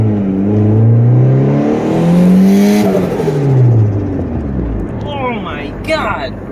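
A turbocharged Honda Accord engine revs hard in repeated rising pulls, close and loud, with fluttering turbo chatter near the end as voices talk over it.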